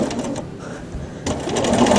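A sewing machine stitching a feather quilting design on a quilt, running in short bursts of fast mechanical whirring and needle chatter, close and moderately loud.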